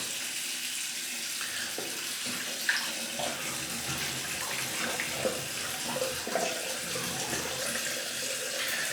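Water tap running steadily into a sink, a constant close hissing splash with small clinks and knocks underneath.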